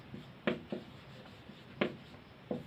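Handwriting with a pen on paper gives a few short, close scratchy strokes spaced unevenly over a quiet background, with no talk during the strokes.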